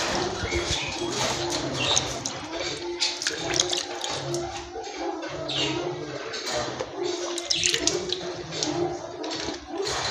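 Water running and splashing as bread is soaked to feed white-headed birds, a steady wet trickle with bird calls and cooing in the background.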